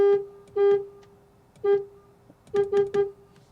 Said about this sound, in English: let's hear how the horn sounds on the Mercedes-AMG CLA 45